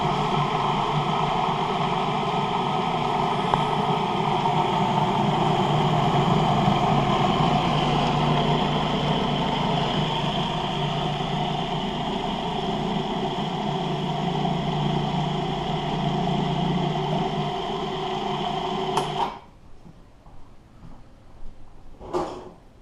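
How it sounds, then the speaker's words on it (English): A food processor blends hummus made with olive oil. Its loud, even motor whir runs steadily for about nineteen seconds, then cuts off abruptly, leaving quiet room noise and a few small knocks. "Sometimes you need to stop and scrape down your food processor"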